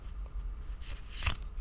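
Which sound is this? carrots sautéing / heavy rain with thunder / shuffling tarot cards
shuffling tarot cards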